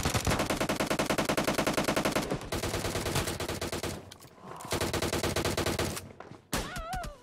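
Loud automatic gunfire in a video game match fires in rapid sustained bursts with brief gaps, close and dense, ending in a headshot.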